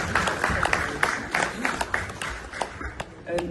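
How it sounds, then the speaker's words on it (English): Audience applause at a Sangeet Foundation mental-health evening, with uneven individual claps at moderate volume mixed with murmuring voices. "please can I have a huge round of applause for Sinead Gibson"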